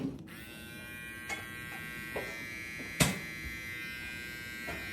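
A steady, quiet TPOB GO electric hair clipper hums continuously, with a few small clicks and taps along the way.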